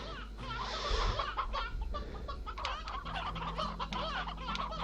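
Chickens and hens cluck repeatedly in the video game Slime Rancher, a busy, continuous barnyard chatter of overlapping clucks at moderate loudness with faint background music.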